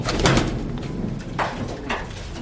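Pigeons of the Gola and Jalali breeds coo close by, with several soft throaty calls rising and falling over a few seconds against steady background noise.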